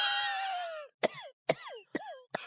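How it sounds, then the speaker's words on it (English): Four sharp, dry coughs in a row, each a short harsh burst with a brief raspy tail, close and fairly loud, following a long drawn-out vocal sound at the start. "Oh, that sounds like a dry cough."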